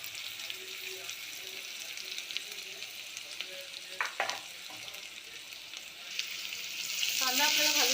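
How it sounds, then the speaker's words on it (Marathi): Finely chopped onion is dropped into hot oil in a pot for pav bhaji, making a soft, steady sizzle with a brief utensil clink midway. The frying swells louder and brighter near the end. "आपलं छान गरम झालेलं आहे आणि त्यात मी बारीक चिरलेला कांदा घेते घालून"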